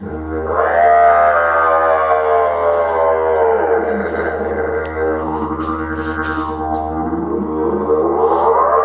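A loud, continuous low drone of a didgeridoo, with a voice sliding upward into a wailing, scream-like cry layered over the steady hum.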